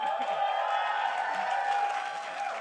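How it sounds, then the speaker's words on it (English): A large live audience at a North American League of Legends esports match cheers and applauds for a player on stage, a steady, dense wash of crowd noise that fills the whole moment without pause. "People should be applauding you."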